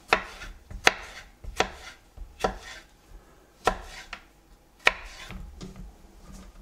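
Sharp knife chopping vegetables such as bell pepper and eggplant on a cutting board, with about seven distinct, irregularly spaced near chops and quieter slicing between them, no talking.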